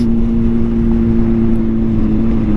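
Supercharged 2023 Kawasaki ZH2 motorcycle cruising in fourth gear, its aftermarket exhaust giving a steady, loud, close drone with a sustained low hum throughout and no talk.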